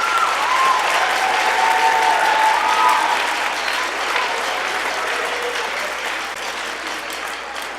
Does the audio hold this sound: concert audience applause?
yes